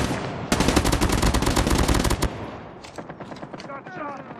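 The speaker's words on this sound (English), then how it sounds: "Hostile sentry gun in your AO." Rapid automatic fire from a hostile sentry gun in the mobile shooter Call of Duty Mobile, a loud burst of closely spaced shots lasting about two seconds, then scattered game effects and faint voice chatter.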